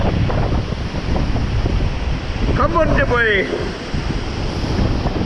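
Rushing water at the Algar waterfalls in Spain roars as a steady loud wash mixed with wind buffeting the microphone, while someone briefly speaks and shouts close by.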